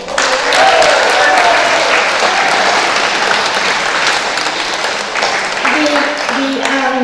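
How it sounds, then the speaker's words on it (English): An audience at a hall of fame commemoration event in Ireland breaks into warm applause, loud at the start and gradually thinning out, with a few voices heard toward the end. "So I want you to put your hands together, a big round of applause for Owen Manley."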